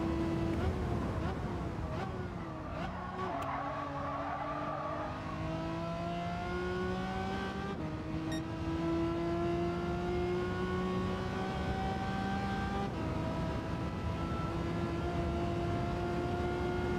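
A Ferrari race car engine in Gran Turismo 7 Gr.3/Gr.4 endurance racing pulls hard through rising revs with stepped gear changes, loud and continuous for the whole stretch.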